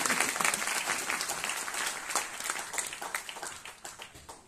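An audience in an auditorium at a tuberculosis-free-village event claps together in dense, sustained applause that fades slightly toward the end.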